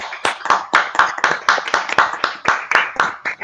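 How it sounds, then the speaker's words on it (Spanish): An online conference audience claps over unmuted microphones, a steady run of close, sharp hand claps at a brisk, slightly uneven rhythm lasting a few seconds. "Voy a solicitar que todos reactiven su audio para poder aplaudir la mesa."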